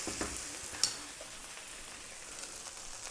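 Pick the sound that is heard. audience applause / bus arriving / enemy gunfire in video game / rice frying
rice frying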